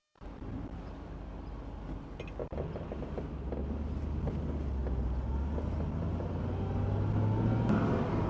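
A 1963 Chevrolet Corvette Pro Touring driving, its engine a steady low rumble that builds slightly as the car gets under way, with wind noise over the microphone.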